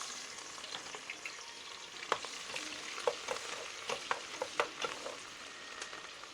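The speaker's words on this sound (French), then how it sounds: "on va faire frire notre poisson, oignons et nos crevettes" Fish, onions and shrimp frying in a pan in a home kitchen in Douala, a steady crackling sizzle with a series of sharp pops and stirring clicks, close and clear with no talking.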